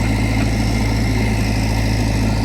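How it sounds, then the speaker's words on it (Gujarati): A JCB backhoe loader's engine idles in a steady, unbroken low drone with a constant rumble, running close and loud without a pause. "બસ તો આ છે આપણું જીસીબી."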